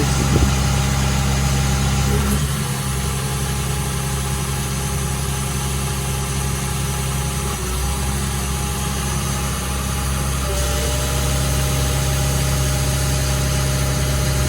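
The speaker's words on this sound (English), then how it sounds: "what I'll get him to do is just work the quick hitch and see if we can't spot where the leak's coming from" A hydraulic excavator's engine runs at a steady idle while the operator works the quick hitch during a check for a hydraulic oil leak. The drone is loud and continuous, with faint shifts in tone and no talk.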